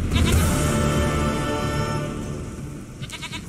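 Goat in The Witcher 3 giving a loud, close bleat that wavers and fades, followed by a shorter second bleat.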